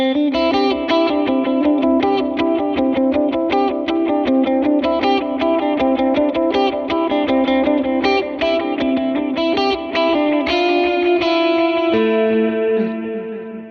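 Lead electric guitar playing a worship song riff at tempo with a clean tone, dual stereo delay and plate reverb, a steady stream of picked notes ringing with echoing repeats, loud and close, no talking.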